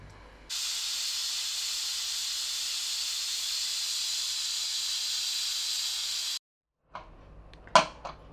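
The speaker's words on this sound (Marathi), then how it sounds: "आता कुकरचं झाकण लावून आपल्याला एक तीन ते चार शिट्ट्या घ्यायच्यात" A pressure cooker holding a mixed-pulse khichdi lets off a loud, steady hiss of steam for about six seconds, then stops abruptly, followed by a short quiet gap and a few faint clinks.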